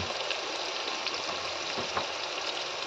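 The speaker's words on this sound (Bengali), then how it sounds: "এবার মা নাড়াচাড়া করে মশলাগুলোকে ভালো মতো কষিয়ে নেবে" Ground spices, including Kashmiri chili, coriander and cumin powder with salt, fry in a pan while being stirred, giving a constant dense sizzle with faint scraping of the spoon, close and unbroken, with no talk.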